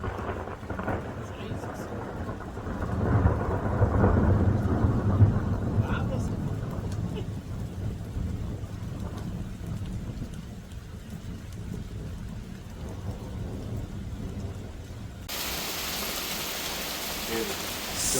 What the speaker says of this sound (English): So much rain, guys.